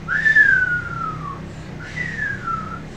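A human voice imitates trees whistling in the wind with two long descending whistled tones, each gliding down over about a second, close and fairly loud, separated by a short pause.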